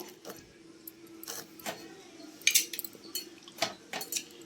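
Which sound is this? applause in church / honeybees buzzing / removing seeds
removing seeds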